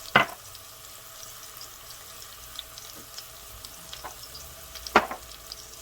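Moussaka ingredients with Greek oregano fry in a pan, a soft steady sizzle broken by a couple of sharp clinks or stirs, one near the start and one toward the end.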